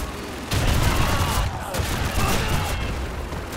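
Battlefield gunfire in Call of Duty 2, a World War II shooter, with a steady crackle of rifle and machine-gun shots and louder nearby bursts layered over a busy combat background.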